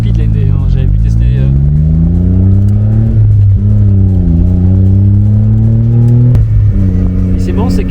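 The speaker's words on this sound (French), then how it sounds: "on entend bien le moteur" Small Honda Beat mid-engine roadster with the top down, engine revving steadily and rising in pitch through several gear pulls, loud and close throughout with harmonic drone; a voice talks over it.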